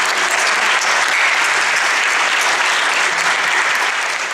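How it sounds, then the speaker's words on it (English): A large audience at a 2017 panel discussion on the United Nations in Qatar applauds in a dense, loud, sustained wash of clapping that holds evenly throughout. "let's give them a round of applause"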